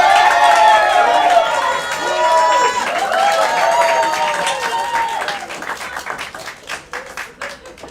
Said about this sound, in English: Can you give a huge round of applause to Bala?